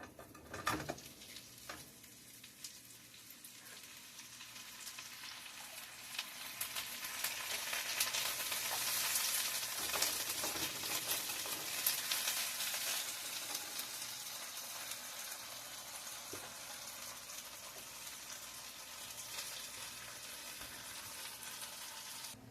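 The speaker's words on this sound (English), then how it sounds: "Okay, we're going to fry our okra now." Okra frying in a pan gives a steady, fairly quiet sizzle and crackle that swells a little midway, with occasional light scrapes and knocks of a utensil, no voices.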